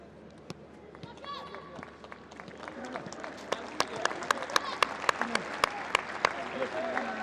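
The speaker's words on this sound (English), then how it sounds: "He gets a warm round of applause." Stadium crowd at a Morocco v Guinea World Cup qualifier applauds a substituted footballer, a steady wash of clapping and crowd noise with sharp claps standing out, swelling louder toward the end.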